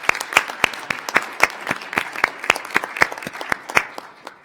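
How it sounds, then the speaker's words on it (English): A small group applauds, with distinct, fairly sparse claps in a quick irregular rhythm that gradually thins out toward the end. "So let's give her another round of applause."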